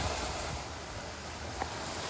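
Tidal flood waves surge onto a beach with no breakwater, a steady loud wash of surf and wind noise running unbroken throughout, with no voices.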